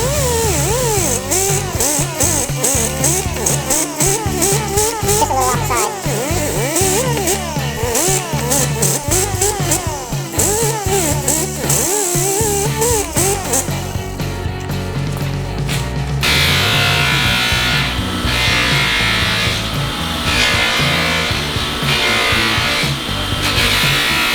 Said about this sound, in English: I'm gonna sand that out so it looks like that side, and we'll buff it.